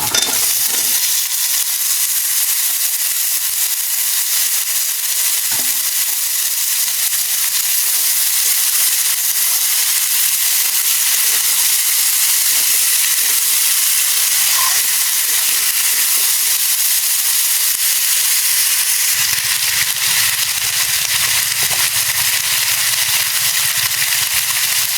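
Cut taro pieces go into hot oil in a pan and give a steady, loud, close sizzling hiss that runs unbroken from start to finish.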